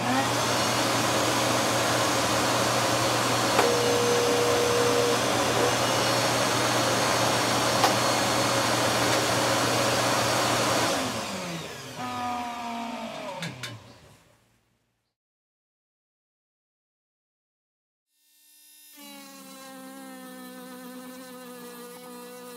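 A vacuum cleaner roars steadily, then its motor winds down to silence; after a pause it starts up again, whining back to a steady hum.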